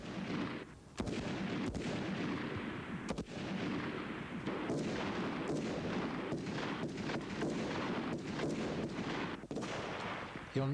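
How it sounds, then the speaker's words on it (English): Rifle shots ring out on a practical shooting range as a series of targets is engaged from a 200-yard firing point, several sharp reports spaced a second or two apart over a steady background, with someone narrating. "On reaching the 200-yard firing point, a sequence of targets is engaged with the following results"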